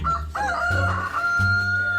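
A rooster crows in the Free Fire video game, one loud, sustained cock-a-doodle-doo with clucking fragments, sounding close and clear.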